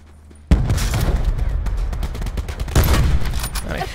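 Rapid gunfire erupts in a Call of Duty Blackout match, a dense loud fusillade of overlapping shots that starts abruptly and continues with repeated bursts.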